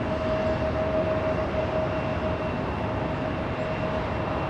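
Steady, loud broadband engine roar of a passenger jet on approach to land at LAX airport, a continuous rumble with a faint whine held through the moment, no voices.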